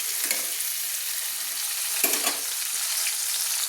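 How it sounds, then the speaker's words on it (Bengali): Chopped tomatoes fry in hot oil for a cauliflower, potato and bata fish curry, giving a steady loud close sizzle with a few soft scraping strokes of stirring. "টমেটোগুলোকে তেলে একটু নেড়ে নিচ্ছি"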